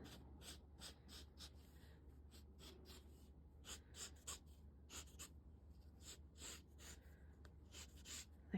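A pencil or marker strokes repeatedly over pattern paper, tracing darker lines in quick, rhythmic scratchy passes that are close and clear over a faint low hum.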